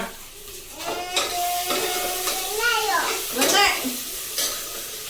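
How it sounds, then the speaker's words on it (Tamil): Onions sauté in a pan with a soft, steady sizzle and occasional stirring, while voices talk and call out over the frying. "வெங்காயம் தானே வதக்குறேன்"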